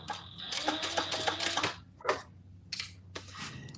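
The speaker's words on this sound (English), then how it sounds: "So I'm just gonna fold it over and chain stitch them." A sewing machine chain stitching a folded edge on doll clothing, a rapid rattling run of stitches followed by a few short bursts, close and clear.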